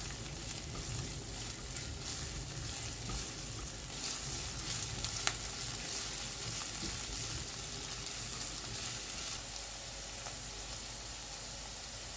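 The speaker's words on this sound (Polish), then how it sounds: "No dokładamy cebulę i 2 minuty smażymy." Onion sizzles and crackles steadily in a hot pot with chicken broth, a continuous close frying hiss with an occasional faint clink, no voices.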